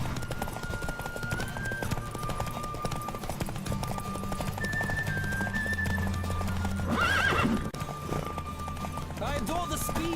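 A horse gallops at speed with steady, rapid hoofbeats and an occasional whinny in The Witcher 3, heard over game music and background voices, with a louder surge of sound midway.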